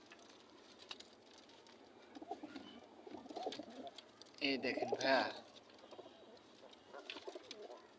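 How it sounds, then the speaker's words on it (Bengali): Domestic pigeons in an opened cage coo in soft, rolling bursts, close but fairly quiet, with someone speaking briefly amid the calls. "এই যে একটা কবুতর"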